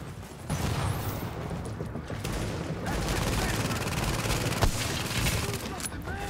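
Rapid, sustained bursts of automatic gunfire in an online shooter game fill the scene, loud and dense, with brief pauses and a single sharper crack near the end.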